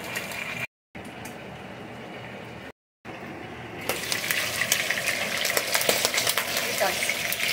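Smoked pork hock sizzles and fries in a pan, a steady crackling hiss that grows louder and busier partway through, with brief cut-outs early on.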